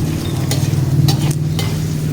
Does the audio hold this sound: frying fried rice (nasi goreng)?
yes